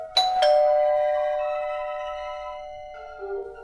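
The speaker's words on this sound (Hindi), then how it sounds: "डोरबेल बजी।" A two-tone doorbell chime at a house's front gate rings once, bright and clear, its tones ringing out and slowly fading, followed by a softer trailing tone.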